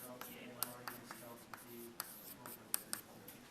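A pen or pencil writes out a beam calculation with soft, close scratching strokes and a few sharper taps. The marks come in short, irregular bursts under faint background noise.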